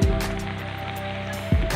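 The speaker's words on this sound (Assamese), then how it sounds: "আৰু ইয়াৰ বাহিৰত বৰষুণৰ শব্দ" Steady rain falls outside a house during a Diwali evening, a continuous close wash of patter with a brief low thump near the end and no talk.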